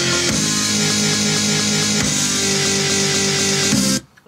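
A short guitar chord sample is looped in an ESX24 sampler and pitched to different notes to play a melody. It repeats steadily and loud for about four seconds, with audible loop points, then cuts off abruptly.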